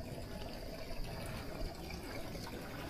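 Water pours continuously from a faucet at a high mountain campsite, a steady close gush with no pauses.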